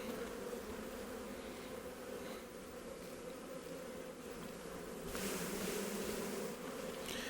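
Honey bees buzz steadily around an open hive during a routine inspection, a continuous dense hum that swells slightly louder toward the end, no voices.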